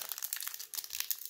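A Flesh and Blood Arcane Rising booster pack wrapper crinkles and crackles up close in rapid, dense bursts, short crumpling rustles following one another without pause and with no voices.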